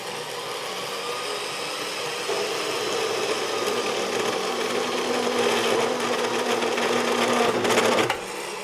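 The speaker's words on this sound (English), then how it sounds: "So we're gonna go ahead and cut this metal." A DOVAMAN portable bandsaw runs at a slow speed setting through steel, a steady whirring motor hum with a grinding cutting tone that holds for several seconds and then drops off sharply as the cut finishes.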